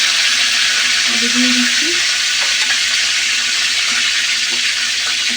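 Whole cardamom and cinnamon sizzle steadily in hot oil, a close, continuous crackling hiss that runs the whole time, with a brief spoken remark partway through.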